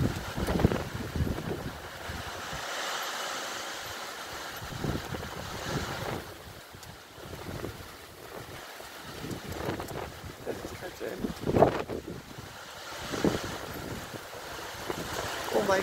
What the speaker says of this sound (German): Oh, jetzt kommt Sturmböen.